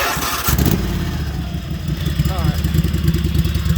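A lawn mower fitted with a truck exhaust runs loud and close, its engine rumbling steadily after a sharp rise in revving, with a voice speaking over it.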